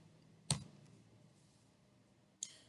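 Two sharp clicks about two seconds apart on a computer keyboard while a web address is typed, close and isolated against a quiet background.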